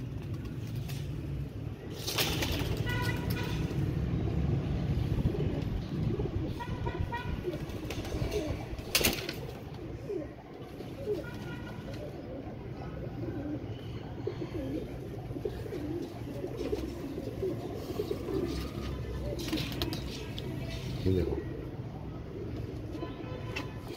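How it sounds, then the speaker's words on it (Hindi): A flock of pigeons coos on and off in a busy outdoor setting, with wing flaps and scattered clatter over a constant rumbling background. "अब दोस्तों जैसे मैं आपको कबूतर दिखा रहा हूँ"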